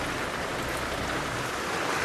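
Rain falls steadily in the wild as a dense, even hiss of drops with no pauses, close and moderately loud throughout.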